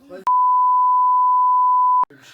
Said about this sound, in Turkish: Bir şey oraya bir bip koyarsın tamam.